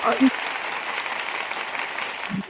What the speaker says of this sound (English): Please, I want us to give her a round of applause